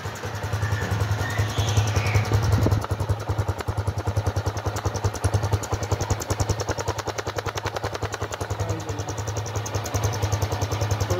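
A 2008 Honda CG 125 Fan motorcycle engine runs steadily with a low, even, pulsing thrum, close and moderately loud throughout, with no talking.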